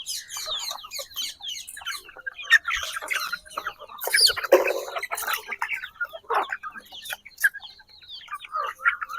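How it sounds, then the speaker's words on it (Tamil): Chickens in a village coop cluck and squawk busily while being fed, several birds close by with overlapping bursts of clucking and the odd louder cackle. "கோழிக்கு தீவனம் போடுறாங்க"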